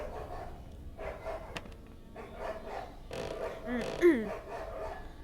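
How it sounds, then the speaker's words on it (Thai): A dog barks in a modded Granny 2 horror game with an Evil Nun mod, giving a sharp yelping bark near the end amid ongoing talk. "อืมเห่าแยะ อะไรอะไรก็เห่า"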